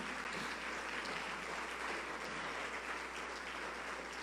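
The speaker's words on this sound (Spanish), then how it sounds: "dale un mejor aplauso al Señor Jesús" A church congregation applauds steadily throughout, a dense even wash of clapping with no gaps, at a moderate distance and without voices standing out.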